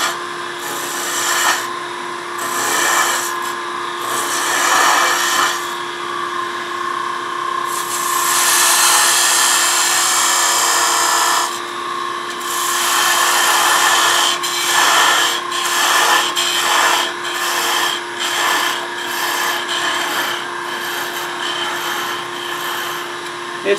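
A wooden coffee scoop spins on a wood lathe while a tool cuts and scrapes the wood, giving a steady close whine with bursts of rough shaving and rubbing noise and short pauses between passes.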